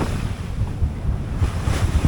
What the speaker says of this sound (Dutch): Golven van voren, zwel van achteren.